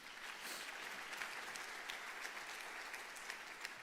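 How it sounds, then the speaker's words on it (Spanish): A church audience applauds in a steady, even wash of clapping, faint and distant throughout the short stretch, with no clear voices standing out. "Un aplauso a todos ustedes."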